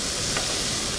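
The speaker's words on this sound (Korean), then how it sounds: "이제 재료들을 전부 다 넣고 이렇게 볶아주세요." Vegetables and other ingredients for jjajang rice stir-fry in a pan, giving a short burst of close, steady sizzling with a faint stir and no voices.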